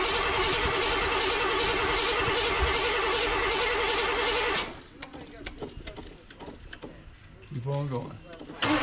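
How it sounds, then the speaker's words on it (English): A junkyard Oldsmobile Cutlass with a newly installed carburetor and new spark plugs cranks over in a loud, rhythmic, pulsing churn for about four seconds, then stops. Voices and softer mechanical sounds follow. "Gonna fire it up and see if it starts and what happens."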